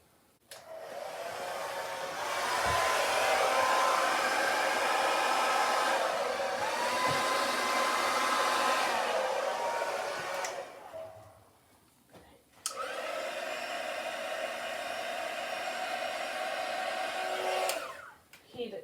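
A heat gun blows over poured acrylic paint in a neon yellow and black Dutch pour, a loud steady whooshing roar that runs for about ten seconds, cuts out briefly, then resumes alone.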